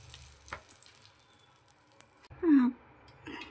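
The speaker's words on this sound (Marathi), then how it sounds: "तर पाव भाजण्यासाठी मी पॅन ठेवलेला आहे आणि मी इथं बटरचा वापर करणार आहे" Butter sizzles in a pan heated for toasting pav, a faint crackling hiss with light tapping and clattering, then a brief louder scraping burst near the end.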